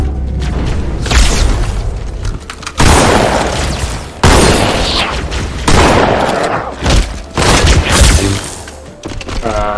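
Loud gunfire bursts from a weapon in the video game Halo: Combat Evolved Anniversary come in several heavy volleys separated by short gaps, with booming impacts.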